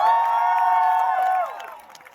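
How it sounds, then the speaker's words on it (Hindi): An audience at a comedy festival show in Jaipur breaks into loud applause, cheers and whoops, holding strong for over a second before the sound trails off. "अपने लिए ताली बजाओ एक बार।"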